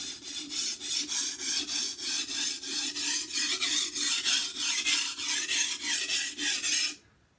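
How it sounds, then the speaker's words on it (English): A kitchen knife is sharpened by hand on a sharpening stone, making about eighteen evenly spaced rasping strokes in a steady back-and-forth rhythm. The strokes are close and clear, then stop abruptly near the end. "making sure that the tip of that knife is in contact with that stone"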